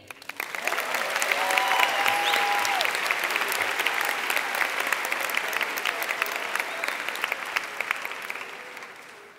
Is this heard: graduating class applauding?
yes